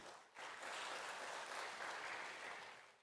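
Audience applause at an international academic symposium, a steady wash of clapping from many hands that starts abruptly and holds for about three seconds before tapering slightly.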